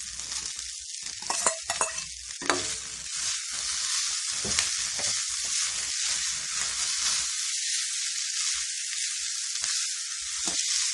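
Paneer fried rice sizzles and fries steadily in a hot pan, a continuous bright crackle with occasional stirring scrapes early on, close and fairly loud with no voices.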